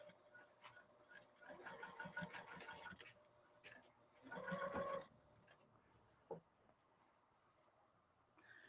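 Sewing machine top stitching a reversible handbag about half an inch from the edge with a lengthened stitch, heard as bursts of rapid mechanical whirring, the loudest near the middle, with a quiet gap and a soft click between runs.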